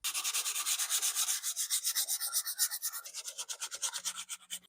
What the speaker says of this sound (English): we have to do a very light sanding with 220 grit sandpaper